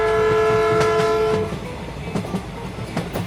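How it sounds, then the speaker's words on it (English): A train blows a loud sustained horn for over a second, then its wheels rattle in an uneven clickety-clack as it rolls past close by. "Look, there is a train."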